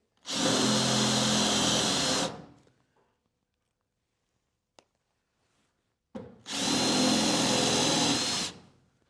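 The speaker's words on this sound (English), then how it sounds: "Let's drill off this plate." Two loud bursts of a power drill whining into metal as it drills out rivets on a boat's hull identification plate, each about two seconds, separated by a quiet pause with a faint click.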